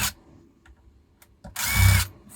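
A screwdriver with a Pozidriv 2 bit backs out long Phillips screws from the case of an Electrobike Powertronic 36V 8Ah e-bike battery, a short whirring burst after a few faint clicks, close and fairly loud.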